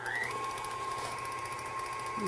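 An electric mixer runs steadily while mixing peanut butter cookie dough, a continuous whine with a rising pitch at the start and a drop at the end, close and unbroken.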